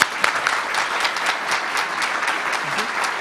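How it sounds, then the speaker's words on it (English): Steady, dense applause from a seated audience at a college of education awards ceremony, continuous and even throughout, with faint voices mixed in beneath the clapping. "One more round of applause for all of our awardees"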